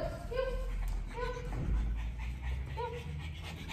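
A pug dog pants and lets out short, high whimpers in a few brief bursts, close by and fairly quiet, with a low background hum.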